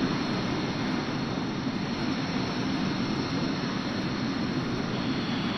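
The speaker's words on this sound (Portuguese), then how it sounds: "o avião segue pela pista de taxiamento até chegar à pista de decolagem" A steady, loud roar of jet engines rumbles without a break as an Inex-Adria Aviopromet airliner taxis along the taxiway toward the runway.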